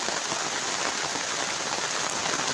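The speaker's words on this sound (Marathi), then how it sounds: "आता काय जोरात आलाय पाऊस" Dense, loud rain pours down in a constant roaring hiss at Gagangiri Ashram, Khopoli, with no voices over it.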